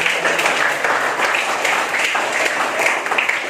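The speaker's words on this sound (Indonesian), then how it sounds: "Iya betul, tepuk tangan." Children in a classroom clap together in a sustained burst of applause that stays steady and fairly loud for several seconds, with no talking over it.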